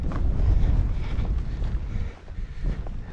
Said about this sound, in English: this wind is pretty brutal, coming right directly at us